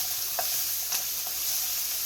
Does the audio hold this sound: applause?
no